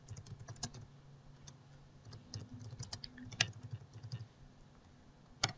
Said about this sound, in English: you would just type in the consumable that you are costing